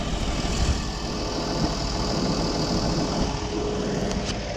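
A Fendt 724 tractor engine idles steadily, a dense, continuous low rumble with a faint knocking texture, loud and close, with no voices.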